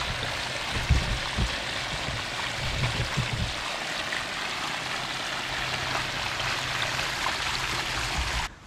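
Water pouring out of a pond siphon pipe makes a continuous loud rushing flow. A few soft thumps come near the start, then the sound is steady and cuts off at the very end.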